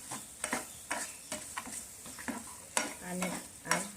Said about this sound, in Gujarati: હલાવતા રહીશું